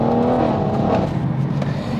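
BMW M140i hot hatch with an aftermarket exhaust, engine note roaring loud and close as it revs, with a rough, crackling exhaust edge and no talking.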